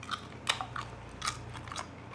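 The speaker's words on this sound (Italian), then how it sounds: "Poi se ne avanza qualcuna me la sgranocchio" Crisp home-dried plums being bitten and crunched, a few separate crunchy bites at an irregular pace, close and fairly quiet, with no talk.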